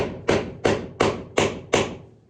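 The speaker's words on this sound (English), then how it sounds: "If you're wondering who's hammering it away" Five heavy, evenly spaced thuds of hammer blows on a car body in a garage, each ringing briefly before fading, loud and close with no talking.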